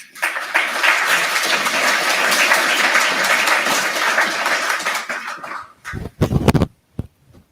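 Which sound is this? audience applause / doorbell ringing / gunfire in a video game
audience applause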